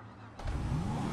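Car engine in GTA 5 kicking in abruptly and revving up, a loud rising growl that climbs in pitch after a short quiet start.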